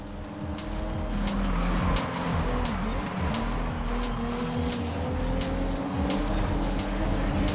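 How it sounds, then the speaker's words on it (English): A 2020 Toyota Supra GR races in the video game Forza Horizon 5, its engine roaring loudly and continuously. Tire squeal and skidding rise over the engine as the car corners. "Second, 2020 Supra GR Championship 800 2020 Toyota Supra only for the Toyota race suit."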